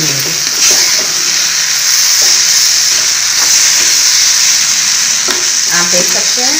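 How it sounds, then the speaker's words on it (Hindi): Green peas fry in oil in a pan over a high-to-medium flame, giving a loud, steady sizzle with occasional stirring scrapes throughout. "इसमें हम अपना मटर डाल के भून लेंगे"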